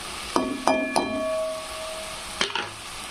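Spices sizzling and frying in a pan for egg curry, with several sharp metallic clinks and scrapes of a utensil stirring against the pan over a steady background sizzle.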